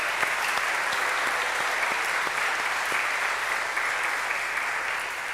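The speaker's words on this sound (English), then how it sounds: "Let's give all of our graduates another round of applause." A graduation audience gives the graduates a sustained, dense round of applause, loud and steady throughout with no talking over it.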